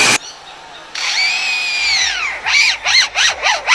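A lyrebird mimics an electric drill: a sustained high whirring whine that holds steady, then slides down and breaks into several short revving bursts, loud and close with no talk.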